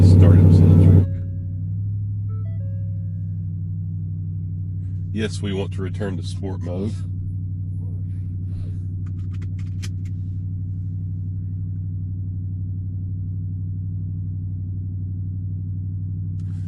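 A 2023 Ford Raptor R truck engine fires up with a loud burst, then settles into a steady low rumbling idle heard from inside the cab, with a brief electronic chime and a voice speaking partway through.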